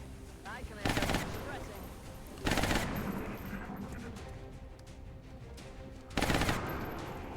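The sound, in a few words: alien Sectoid shooting at the SHIV in XCOM Long War, video game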